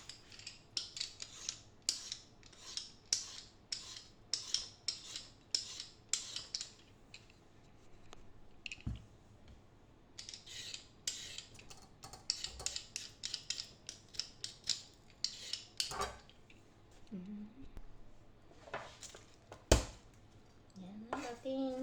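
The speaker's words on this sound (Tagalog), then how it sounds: "Babalatan ko muna ang ating mga sangkap po." Ginger, onion and garlic being peeled with a small blade, a series of close, crisp snipping clicks in uneven bursts with quiet pauses, faint kitchen knocks between.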